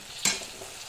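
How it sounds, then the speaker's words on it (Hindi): Chopped tomato added to onions frying in a pan for Desi-style sarson palak saag, giving a sudden loud sizzle and stir that settles into a steady close frying hiss. "इसको भी हम अच्छे से भून लेंगे"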